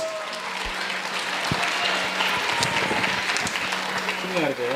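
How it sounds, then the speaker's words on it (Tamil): An audience applauds after a classical dance performance at a Diwali celebration, a steady wash of crowd clapping lasting throughout, with a voice talking over it and some tonal background sound. "ஒரு பலத்த கைத்தட்டல் ப்ளீஸ்"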